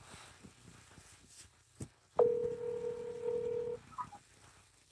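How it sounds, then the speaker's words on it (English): Dialing tones come over a speakerphone before a call: a soft click or two, then a steady, loud electronic tone held for about a second and a half, followed by quieter faint blips. "So I'm going to give him a call back now"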